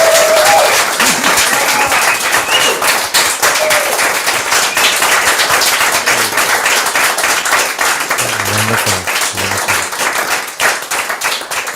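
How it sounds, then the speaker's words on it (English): Temple congregation applauds after a Buddhist ordination ceremony, with dense, sustained clapping from many hands that stays loud throughout and thins only slightly toward the end. "Applause are welcomed."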